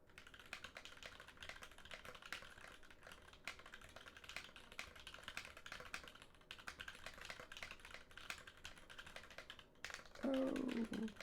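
Rapid, continuous typing on a Cannonkeys Satisfaction 75 mechanical keyboard, a dense stream of close keystrokes, with a brief louder burst of a different sound near the end.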